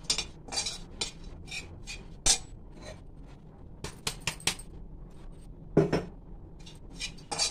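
Almonds, cashews and raisins are stirred in a hot kadai, giving scattered sharp clinks and scrapes of a spoon against the metal pan with brief rattles of nuts between quieter gaps.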